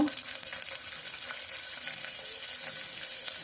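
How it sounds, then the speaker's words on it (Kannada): Spices and field beans frying in hot oil, a steady close crackling sizzle with faint stirring, alone without speech. "ಸ್ವಲ್ಪ ಎಣ್ಣೆ ಕಾದಿದ್ದಾದಮೇಲೆ ಈ ಸ್ಪೈಸಸ್ ಇರುತ್ತಲ್ಲ ಇದನ್ನೆಲ್ಲ ಸೇರಿಸ್ಕೊತಾ ಇದ್ದೀನಿ"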